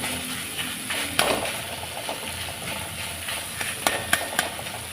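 Spices and tomato are sautéed and stirred in a pan for an apple paneer curry, with a soft continuous sizzle broken by scattered scraping clinks of a spoon against the pan.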